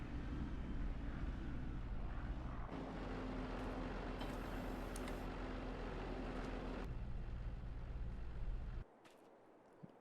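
A tractor engine in a small-farm video game runs at a loud, steady drone with a shifting low rumble, its pitch changing partway as the load or speed changes, then dropping away sharply near the end.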